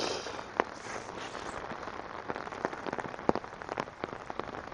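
Rain falls steadily on a Regina city street in June, a continuous hiss with scattered sharp drops and taps close to the microphone.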